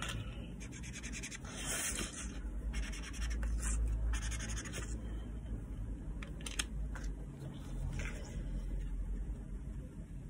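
Watercolor felt-tip markers scratching and rubbing across paper, a steady close scraping texture with brief brighter strokes throughout, no voice.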